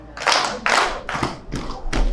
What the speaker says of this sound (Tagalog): bigyan natin sila ng 2 palakpak at 3 padyak